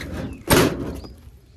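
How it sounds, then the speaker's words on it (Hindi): A door is pushed open in a hot indoor setting, giving a single sharp thud-like clunk followed by a short rattle and fading scrape, close and moderately loud with no talk. "इसलिए ये पूरा दरवाज़ा मुझे खोलना पड़ता है"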